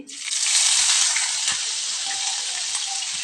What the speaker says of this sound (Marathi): आलं चांगलं परतून घ्यायचं सगळं.